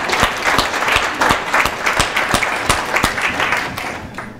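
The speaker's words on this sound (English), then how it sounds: "Can we give Stuart a round of applause?" A crowd at a multiple sclerosis education event applauds Stuart with loud, sustained clapping, individual sharp claps standing out from the dense roar before it tapers at the end.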